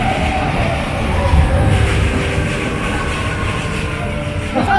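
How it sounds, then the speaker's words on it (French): Amusement park trains run on their rails at Europa Park during the Hallowinter season, a loud continuous rumble with a steady rolling roar close by and no clear voices over it. "On a deux trains."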